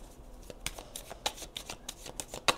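A deck of tarot cards being shuffled and cut, heard up close as a run of quick papery riffles and slaps with short pauses between them, the sharpest snap coming near the end; no one speaks.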